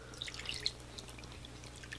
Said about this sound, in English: Then we'll add some water